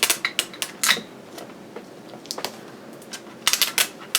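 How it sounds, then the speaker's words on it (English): Tape pulled and pressed down onto the corners of an item in a quiet room, heard as a series of short, sharp crackling tears and taps in separate bursts, with a cluster of quick rips toward the end. "So you just take the corners, tape them down."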